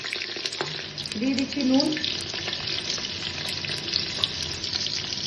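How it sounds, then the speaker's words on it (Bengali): Potatoes frying in hot oil in a pot, a soft steady sizzle with faint stirring scrapes and clinks, while someone talks briefly over the cooking. "আলুগুলোকে ভেজে নেব তেলের মধ্যে।"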